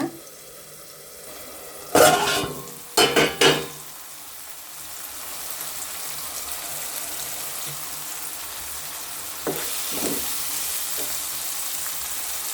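Ginger paste fries in a pan for a gonguura curry: a few sharp scraping stirs early on, then a steady soft sizzle with a brief clatter later, nobody speaking.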